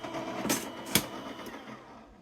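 A paper die-cutting machine presses paper through with a steady mechanical whir, broken by a couple of sharp crunching clicks, close and moderately quiet.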